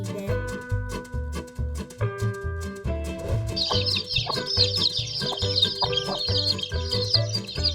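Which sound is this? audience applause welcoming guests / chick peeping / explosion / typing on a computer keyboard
chick peeping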